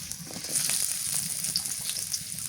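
Onions frying in mustard oil in a pan on a clay stove, a steady close sizzle and crackle with faint stirring, no talk.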